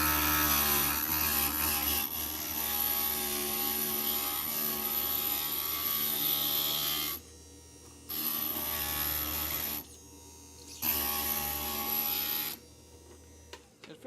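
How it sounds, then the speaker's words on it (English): A stained glass grinder smooths the rough edges of a cut glass piece with a steady high whirring hum and gritty rubbing, running in long stretches broken by a few brief pauses, close up with no talk. "I'm going to go ahead and just touch it up on the grinder really quickly."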